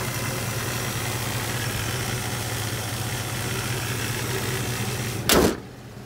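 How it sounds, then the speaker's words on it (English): A 1986 GMC 4x4 short bed pickup truck engine idles with a steady low rumble throughout, then a sharp bang like a door shutting near the end. "As you can tell, the motor sounds good."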